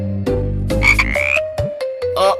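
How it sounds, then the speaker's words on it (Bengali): Frog croaking sound effect in a Bengali cartoon, a few loud, close, throaty croaks in quick irregular succession, heard alone with no talk. "কিন্তু ভাষা যে ব্যাঙের ডাক হয়ে যায় তা আজই দেখলাম"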